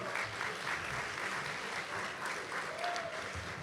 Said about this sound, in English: How about a big round of applause for our Master of Ceremonies, Chris Dewar.